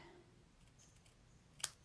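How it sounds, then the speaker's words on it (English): Paper snips trimming the ends of a stamped paper gift tag label, a few faint soft cuts ending in a sharp close snip and a second quieter snip. "I'm just going to take my paper snips and trim there."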